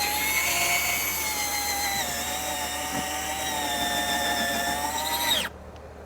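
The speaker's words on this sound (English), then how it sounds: "We're going to drill a hole through the vertical brace behind this fence board" A 5/16 inch bit in a modest-powered cordless drill bores through a vertical wooden fence brace behind a board, giving a steady, loud whine with a rising pitch that stops abruptly near the end, leaving quiet room tone.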